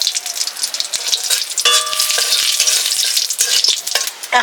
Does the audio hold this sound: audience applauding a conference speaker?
no